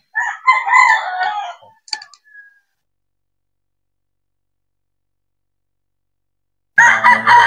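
Sweater gamefowl roosters at a game farm crowing loudly and close, one full crow followed by a short call, a long silence, then another crow starting.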